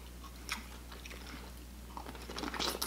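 Hot Cheeto fried pickles being bitten and chewed up close, with soft crunchy bites scattered through the clip and a busier burst of crunching near the end, under a low steady hum.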